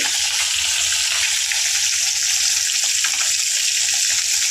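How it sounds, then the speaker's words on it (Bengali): Fish fries in a pan with a steady, loud, close sizzle that crackles continuously from start to finish, with no voices over it. "মাছ ভাজা হচ্ছে, মাছ পুকুরে মাছ ধরেছে, মাছ ভাজা হচ্ছে।"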